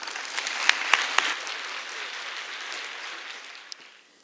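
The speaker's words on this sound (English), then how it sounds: "Please give her a round of applause." An audience at a mock climate change conference applauds a speaker being introduced. A few sharp, close claps stand out early over a broad wash of clapping that gradually fades away toward the end.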